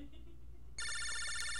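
A phone in the Mega Man Battle Network 5 video game starts ringing abruptly after a quiet moment, a bright, fast electronic trill that holds steady and loud to the end.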